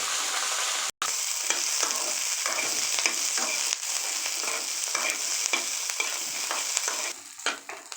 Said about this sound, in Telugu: కట్ చేసి పెట్టుకున్న పచ్చిమిర్చి వేసుకొని ఫ్రై చేసుకోవాలండి